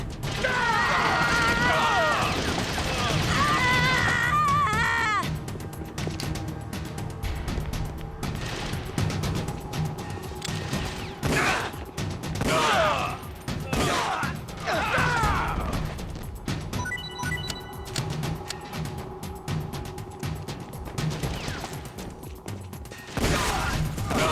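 Shots, crashes and mechanical clatter from the video game Metal Gear Solid: The Twin Snakes sound in loud bursts over game music, while voices talk throughout.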